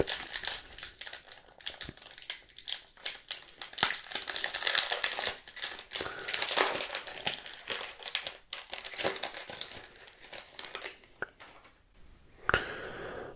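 Foil pack of baseball cards being torn open and crinkled, with steady close crackling and crumpling that runs throughout, dense and continuous with a sharper rip near the end.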